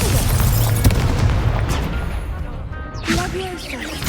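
A Confringo explosion spell goes off in a wizard video game, with a booming burst and rumble followed by a whooshing, crackling flare a few seconds later over continuous background noise.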